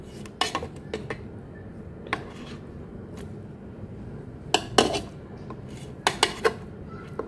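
Chicken being turned in a pan with a utensil while cooking with little oil, mint and coriander leaves: scattered clinks and scrapes of metal on the pan, a few sharp knocks in bursts over a low steady sizzle.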